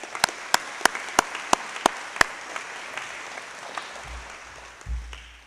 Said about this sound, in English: So I'd like to have a round of applause for Mr. Thomas, please.